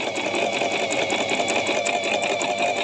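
Singer 1408 digital sewing machine stitching, a steady, fast mechanical whir and chatter at close range, continuous and even, with no speech over it.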